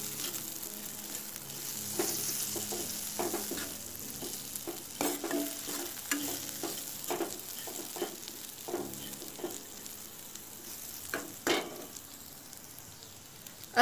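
Sev chutney with green coriander stirred in a pan, a soft steady sizzle with repeated light scrapes and taps of the spoon, fairly quiet and close.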